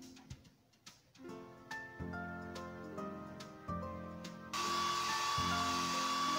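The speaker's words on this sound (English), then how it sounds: "Tap the hair dryer to blow dry the pup's hair." Music plays, then a steady loud whooshing blow of a hair dryer drying a pup in a PAW Patrol video game cuts in and keeps going.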